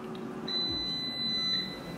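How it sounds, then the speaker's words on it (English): An oven timer beeps twice in quick succession while baking red snapper fish, a thin high electronic tone at moderate volume over faint background hum. "You hear the beep."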